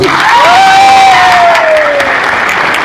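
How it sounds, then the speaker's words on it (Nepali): Audience applause at a company's Dashain festival gathering, a dense steady wash of clapping from a crowd, loud and close, with a voice briefly sounding over it. "तपाईलाई चित्त बुझ्यो भने ताली बजाइदिनु"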